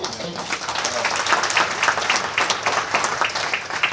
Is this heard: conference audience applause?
yes